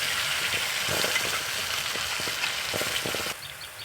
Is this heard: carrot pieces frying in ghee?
yes